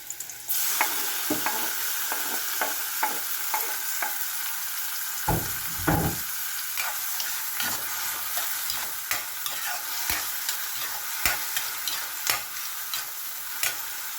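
Mixed vegetables with tomatoes fry in a pan for a shrimp stir-fry, giving a steady close hiss of sizzling. A utensil clacks against the pan in irregular scrapes and knocks throughout.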